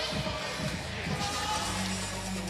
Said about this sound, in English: The crowd has life again.